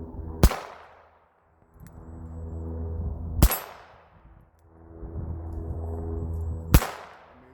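Three sharp shots from a Taurus Model 94 .22LR revolver, spaced about three seconds apart, each a crisp crack with a short ringing decay, with faint handling noise between them.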